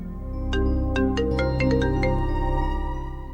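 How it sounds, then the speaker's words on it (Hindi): A mobile phone ringtone chimes for an incoming call, a rising run of bright melodic notes playing alone over a low musical drama score. "ये बार बार एक ही नंबर से कॉल आ रही है, हो सकता है इम्पोर्टेंट हो, चेक कर लो।"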